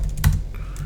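A burst of computer keyboard typing, a few quick keystrokes clustered together, close and fairly loud over a low steady hum while entering code for an Arduino servo program.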